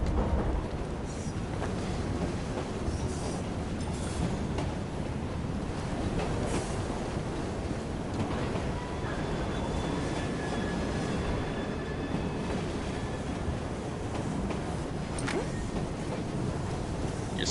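A moving train in the video game Assassin's Creed Syndicate gives a continuous rumbling clatter of wheels on rails, steady and fairly loud for the whole stretch, with faint squeals and no talking.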